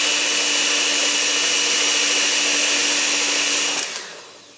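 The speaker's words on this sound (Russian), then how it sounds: "Теперь, прям не выключая миксера, начинаем вводить сюда муку." An electric mixer whirs steadily and loudly while flour goes into cottage cheese donut dough, a constant high motor drone that winds down and stops near the end.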